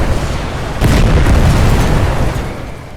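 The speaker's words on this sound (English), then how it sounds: "Machine gun fire and hand grenades being" Heavy booming explosions and rumbling battle fire in the World War I strategy game The Great War, with the German side attacking; a loud sustained blast swells and slowly fades, with no voices over it.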